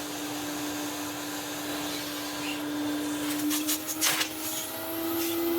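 A 1983 Numatic NV250 vacuum cleaner runs steadily with a loud, constant motor whine and airflow rush, close by, with a few brief knocks and rubbing sounds partway through and no speech.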